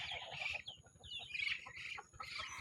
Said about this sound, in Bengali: হাঁস মুরগি ভাবিছে মনে হয় আমি ওদের ডাকছে, সব দৌড়ে চলে আসছে।